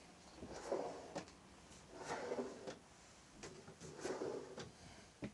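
Kitchen drawers in a 2021 Dethleffs Pulse 7051 DBL motorhome slide open and shut several times, giving soft rhythmic wooden rumbles and light clicks at close range in a quiet interior.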